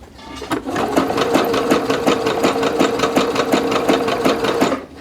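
Sewing machine running steadily at slow speed, zigzag stitching stretch fabric for Vogue 8909 joggers, a fast rhythmic needle chatter for about four seconds with no talking.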